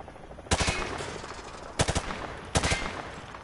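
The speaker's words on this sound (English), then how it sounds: "He sprayed bullets all over the damn place." Rifle fire at targets in the Call of Duty MW2 remastered video game: three separate short bursts of rapid shots, loud and close, with quiet gaps between them.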